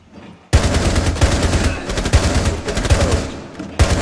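Rapid automatic gunfire in Rainbow Six Siege on the Chalet map, loud close bursts of shots firing in quick succession with a brief pause near the end before resuming.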